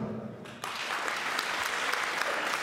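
After a brief spoken moment, loud applause from an anniversary event audience breaks out and continues steadily, dense clapping filling the rest.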